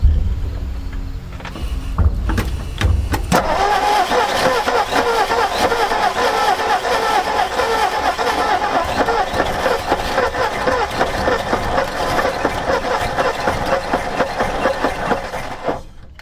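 Engine of an old abandoned panel truck, sitting for 40 years with timing being adjusted, catching after a few rough coughs and then running loud and steady at raised revs, close by.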